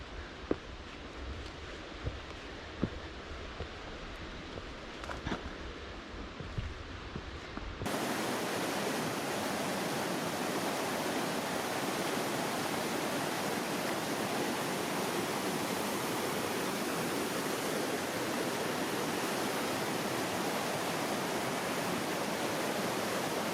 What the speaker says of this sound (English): So this entire waterfall is on a gigantic slab of puddingstone.